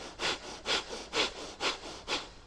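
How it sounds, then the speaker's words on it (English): Kapalabhati yoga breathing: five sharp, rhythmic exhalations forced out through the nose at an even pace, each a breathy hissing puff with brief pauses between, close and moderately loud with no talking. "Now let's try to add Kapalabhati breath."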